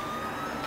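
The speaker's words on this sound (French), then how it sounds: "On va lever la sirène." Vehicle siren from the video game GTA IV, a steady tonal wail with an engine rumble beneath, continuous and fairly loud through a brief moment with no talking.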